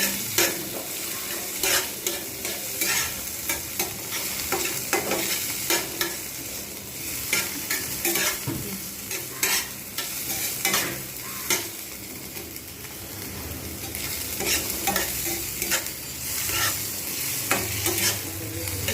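Onion, tomato and green chilli frying in a pan, a continuous sizzle broken by frequent scraping stir strokes from a spoon, close and steady with no voices.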